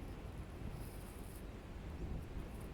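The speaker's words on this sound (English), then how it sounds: "It's very windy outside, it's a lot of rain." Strong wind roars steadily outside a cargo boat on the Amazon during heavy rain, a dense low rumble with gusty swells, close and continuous, with no talking.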